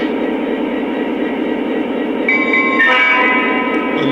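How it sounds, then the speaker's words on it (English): A Lionel SD45 diesel model locomotive in Great Northern livery runs with a steady rumble. Partway through, its electronic whistle sounds and a ringing bell joins it, both loud and close. "pressing aux 1 and waiting for the bell and whistle to go on, which we heard"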